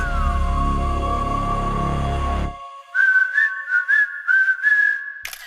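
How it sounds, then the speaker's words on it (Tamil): A steady low synthetic drone cuts off, then a bright whistled phrase of several rising and falling notes plays loud and alone as part of an advertisement for a whistle-themed complaint-reporting phone app. "விசில் அது எப்படி கேட்காம போகும்?"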